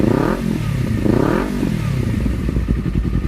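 A Honda CBR250RR motorcycle engine revs loudly twice in quick succession, then settles into a rough, clattering idle up close.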